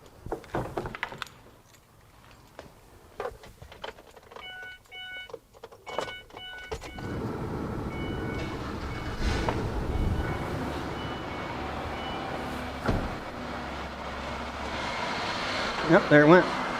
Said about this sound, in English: We're going to go ahead and start the vehicle up.